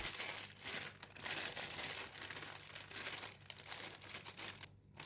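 Plastic bag crinkling by hand while tamarind paste is shaped into round portions, close and continuous rustling in irregular bursts with short pauses.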